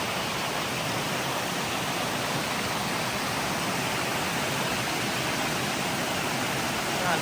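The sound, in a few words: rushing water of Norway Rapids on a river crossing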